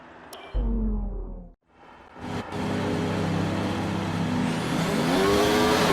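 An F1 race car engine in F1 2019, revving high, cutting out briefly, then climbing steadily as it runs up through the gears, loud and close with no talk.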